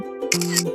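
A DJI Osmo Action 5 Pro action camera snaps a photo: a brief, crisp double shutter click, close and fairly quiet against a faint background hum.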